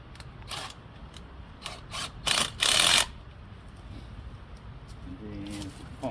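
Screws being wound by hand into a tree trunk to mount a possum trap: irregular ratcheting clicks and bursts of scraping, the loudest around the middle, close by, with a voice speaking near the end.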